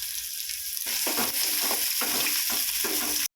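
Onion and garlic cloves frying in hot oil for a brinjal and drumstick kara kuzhambu, a steady close sizzle with bursts of stirring scrapes every half second or so, alone without talk.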